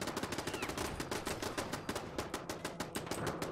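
Rapid automatic gunfire in the video game Fallout 4, a steady stream of dense, loud shots rattling continuously without pause.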